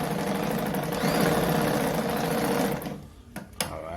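Brother model 345 sewing machine running a straight stitch, a steady, fairly loud mechanical whir for nearly three seconds, then stopping with a couple of short clicks and knocks.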